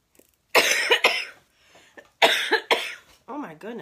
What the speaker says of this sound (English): I do apologize for my cough.